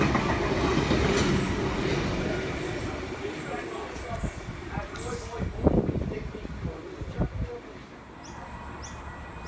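A V set passenger train on a line at Koolewong rumbles past close by with rhythmic wheel clatter, loud and continuous, fading slightly toward the end.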